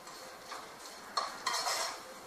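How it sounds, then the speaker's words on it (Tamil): Onions and chillies being sautéed and stirred in a kadai, with soft scraping and clinking of a spatula against the pan and a faint sizzle, ending in a sharp metallic clank. "இப்போ கடாயில் வெங்காயமும் மிளகாயும் நல்லா வணங்கிடுச்சு."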